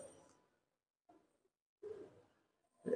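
A young female pigeon coos softly in short, separate bursts with quiet gaps between them, close by and faint.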